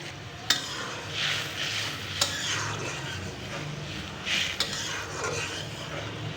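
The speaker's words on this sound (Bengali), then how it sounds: "এই যে তরকারি ফুটে গেছে" Spiced fish curry bubbles and sizzles in a pan while a spoon stirs it, with three sharp metallic clanks of utensil against pan over a steady hiss.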